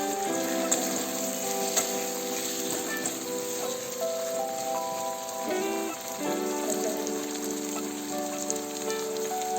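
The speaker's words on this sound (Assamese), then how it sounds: "অকণমান ভাজি ল'ব লাগিব।" Potato pieces frying in hot oil for biryani give a steady, even sizzle that runs the whole time beneath tuneful background music.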